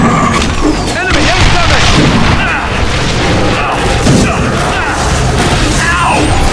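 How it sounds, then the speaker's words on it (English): Artillery bombardment explodes in The Bureau: XCOM Declassified, loud deep booms and crashing blasts rolling continuously over several seconds, with a voice shouting over the din. "Bombardment now! Fire mission confirmed!"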